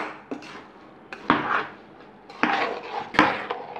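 A utensil scrapes and knocks against a pan while kaaparisi, a traditional rice sweet, is stirred, giving several loud clattering strokes with short pauses between them and no talking.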